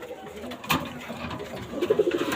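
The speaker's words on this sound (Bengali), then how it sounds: "এই যে আমার হোয়াইট গোল্ডেন কবুতর" A white golden pigeon coos nearby, giving low, soft rolling coos that grow clearer toward the end over a faint background hum.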